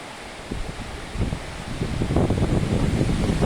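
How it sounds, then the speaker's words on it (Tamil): Gusty, cold wind buffets the microphone on a hill road toward Yercaud, rising and roaring in bursts, with rustling in the background and no speech. "என்ன குளிர் காற்று"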